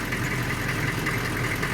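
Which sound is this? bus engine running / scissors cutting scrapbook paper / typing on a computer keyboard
bus engine running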